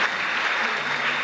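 Large audience applause at a Peruvian folk music night in Trujillo, a loud, dense and continuous roar of clapping with no gaps.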